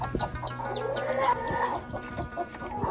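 A hen with chicks clucks repeatedly in short, low bursts, close by, with faint chirping of chicks and poultry farm noise around it.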